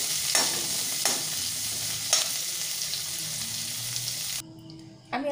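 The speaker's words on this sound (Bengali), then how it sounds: "আলু ফুলকপিটাকে হালকাভাবে আমি একটু ভেজে তুলে নেব।" Potato and cauliflower pieces frying with a little turmeric in a pan, a continuous close oil sizzle broken by a few stirring scrapes, then the sizzle drops away near the end.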